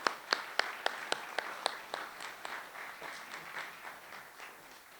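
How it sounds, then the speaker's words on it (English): Outdoor protest rally crowd applauding at Lyttelton port, a few sharp claps leading into steady, moderately loud clapping that fades slightly toward the end, with no talking. "Another round of applause"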